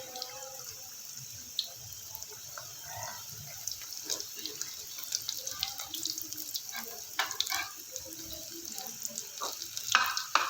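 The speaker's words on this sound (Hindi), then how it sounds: "इसकी आंच हमेशा हल्की ही रखें, वरना फिर ये अच्छे फ्राई नहीं होते।" Chicken vegetable samosas fry gently in oil over low heat, giving a steady soft sizzling hiss with scattered light clinks and clatter from nearby handling, with no talking.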